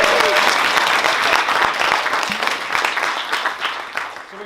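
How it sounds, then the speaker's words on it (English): Audience round of applause at a college comedy open mic, dense clapping that starts loud and gradually tapers off over a few seconds. "Everyone give them a round of applause."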